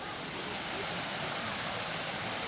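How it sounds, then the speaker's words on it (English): A waterfall beside a mini golf hole pours in a constant broad rushing roar, close and loud, steady throughout with no break. "it just dog legs to the right next to this waterfall"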